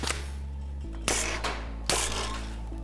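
A Double Barrel Caliburn spring-powered toy blaster fires, with a mechanical clunk followed by two sharp, loud snaps close by, about a second apart, over a low hum.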